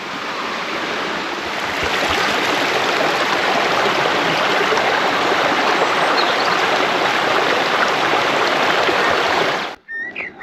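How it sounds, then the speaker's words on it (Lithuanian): A mountain stream flows through forest, its loud, steady rush of water continuing unbroken and close by before cutting off abruptly near the end, with no voices. "Va tokiu upeliai nuo kalnų teka."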